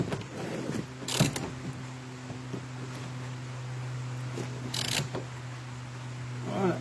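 Small nuts being tightened on a Peugeot 206 door check, a few faint metallic ratchet clicks and taps over a steady mechanical hum, with no talking.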